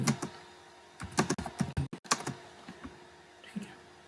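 Someone types an address on a computer keyboard in uneven bursts of clear, close, clicky keystrokes with short pauses between them. No one speaks.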